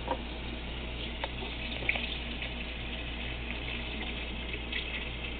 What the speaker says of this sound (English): we're going to fill the sink with hot water